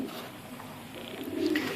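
A Pilka pigeon coos softly nearby in a low, rolling murmur, faint against background ambience.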